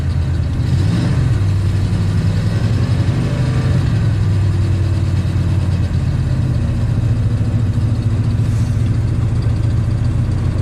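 Rebuilt Ford big block V8 idling roughly with poor vacuum while running rich, a loud, steady low rumble close by that holds even throughout, with no talk.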